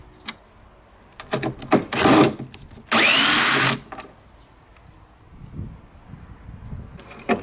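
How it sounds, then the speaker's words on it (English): Power tool unscrewing Torx 27 or Torx 30 screws from the trunk lock mechanism of a BMW E64 convertible: two short whirring bursts with clicks and handling noise between them, fairly close and loud. "Now we remove the locking mechanism with Torx 27 or Torx 30."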